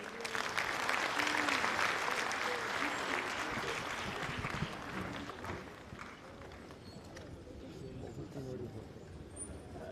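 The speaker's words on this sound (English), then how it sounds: "Another round of applause for articulate Vice President." A regional conference audience applauds, the clapping fairly distant and quiet, strongest at first and gradually thinning out, with faint murmuring voices underneath.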